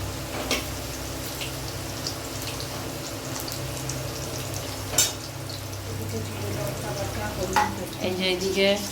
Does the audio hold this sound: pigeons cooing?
no